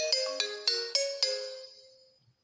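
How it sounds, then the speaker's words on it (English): Mobile phone ringtone chiming in a quick series of five bright melodic pulses, then a ringing tail fading out, clear and close with no talk over it. "My phone is ringing."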